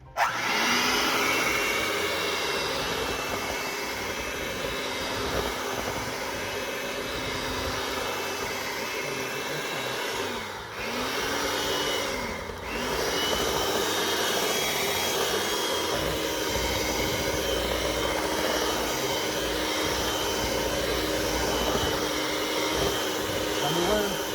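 An electric mixer runs on low speed through bread batter, giving a loud, steady whirring motor drone that lasts throughout, with two brief dips in the middle.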